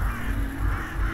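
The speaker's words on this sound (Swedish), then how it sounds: "Det är en massa kråkor." A flock of crows caws in the video game Secret Neighbor, dense overlapping harsh calls filling the whole brief moment, loud and close, with no talk over it.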